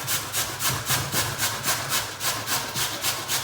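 Potatoes being grated by hand for rosti, a steady rhythmic rasping with about a dozen even back-and-forth strokes, close and fairly loud, with no talking.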